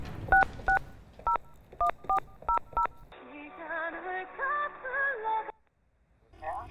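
A telephone is dialed for a call, with a quick series of touch-tone key beeps followed by a sustained ringing or connection tone, then brief quiet.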